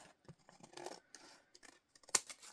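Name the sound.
cutting paper with scissors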